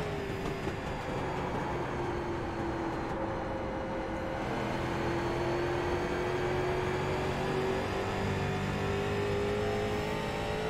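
A rookie street stock race car at USA International Speedway in the iRacing sim holds a steady engine drone under light throttle, its pitch creeping slowly upward throughout.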